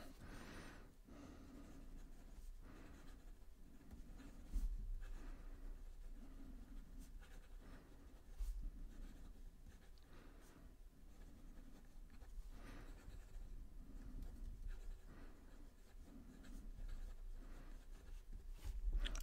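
Quiet, close scratching of a Visconti Breeze fountain pen nib moving across paper in short strokes and pauses, with soft breathing in the background.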